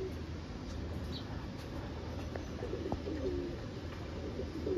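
An Andalusian Bokhara pigeon coos softly, low muffled calls sitting under a steady wash of background noise throughout.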